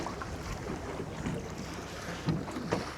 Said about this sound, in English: A little bit of wind blowing, which was forecast.